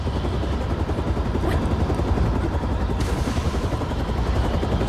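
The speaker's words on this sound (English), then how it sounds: "like a big massive chopper out in the middle of the ocean" A large helicopter hovers out over the open ocean in the video game Beyond Two Souls, its rotor thumping as a dense, continuous, loud roar with a faint clatter mixed in.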